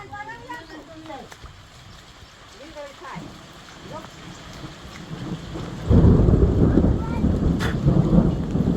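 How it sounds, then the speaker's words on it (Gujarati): A voice talks over steady rain early on in a Gujarati village, then a loud, deep rumble of thunder rolls in and continues to the end. "હમણાં જો વીજળી થઈ"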